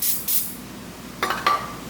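Intake cleaner sprays from an aerosol can onto an engine's gasket mating surface on a Jeep Cherokee Chief, in short hissing bursts: two early puffs, then two more near the end, close by.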